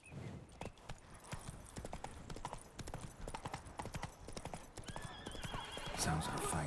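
Roach, Geralt's horse in The Witcher, gallops with steady rapid clip-clop hoofbeats and neighs partway through, over game music and ambience, with brief voice in the background.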